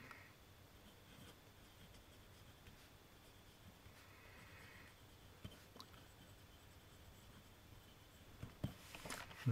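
A pencil writes steadily on smooth paper in a luxurious leather notebook, a soft continuous scratching and rubbing close up, alone without talk.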